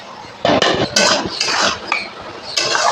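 Metal pot lid clinking as it covers a pan of Bengali maya fish chorchori topped with slit green chillies, several sharp clattering contacts in a close, busy burst with no talk.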